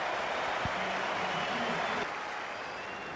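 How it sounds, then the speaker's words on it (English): Dense crowd applause at a stadium during the 2006 England vs Australia first Ashes cricket Test, marking a batsman reaching 150, a steady broad wash of clapping and cheering, with a commentator talking briefly over it. "There's the applause for it."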